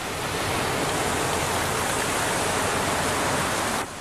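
Steady broadband roar of Pacific Ocean surf, loud and continuous without clear wave breaks, cutting off abruptly near the end.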